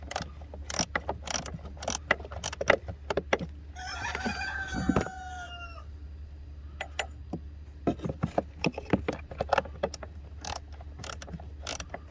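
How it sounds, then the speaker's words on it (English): A 1/4 inch ratchet fitted with a 1/4 inch socket and T25 bit works loose a screw on a BMW 5 Series during A/C repair, giving a long run of sharp, close clicks in irregular bursts. "I'm using a 1/4 inch socket with a 1/4 inch ratchet with the T25 inside."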